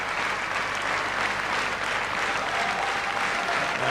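A cricket stadium crowd at Sharjah in 1996 applauds Gary Kirsten's one-day international century against India, a dense continuous roar of clapping heard from a distance without a break.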